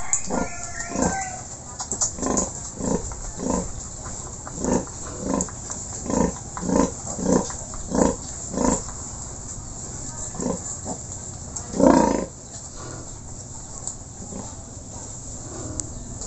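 A sow and pigs on a small pig farm grunt in a steady series of short, regular snorts, close and moderately loud, with a louder grunt near the end over a constant background of insect buzz.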